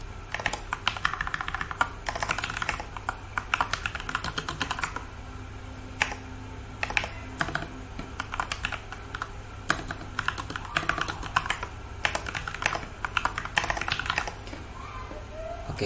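Fast, steady clatter of typing on a computer keyboard during a server setup, with irregular bursts of key taps and brief pauses, fairly close and moderately quiet.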